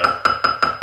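Five quick, evenly spaced taps of a soft plastic mallet on a silver cuff bracelet ring out close by, each a short bright metallic knock, with no speech.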